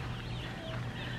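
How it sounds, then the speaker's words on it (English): Low, soft clucking from a group of chickens, steady and close, with faint rustling and chatter in the background. "Let's check on the chickens."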